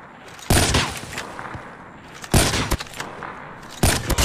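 Gunfire in the Call of Duty Mobile video game, loud close bursts in three separate volleys with quieter shots and ambient game noise between them, with no talk.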